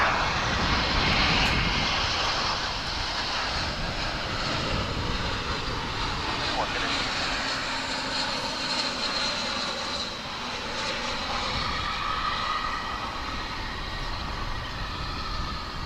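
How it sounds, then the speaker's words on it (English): An American Airlines jet arriving at Dallas/Fort Worth from Boston roars steadily as a broad, sustained engine rumble and hiss, fairly loud and unbroken, with a voice talking faintly over it. "That's a rare west side arrival for a flight coming in from Boston"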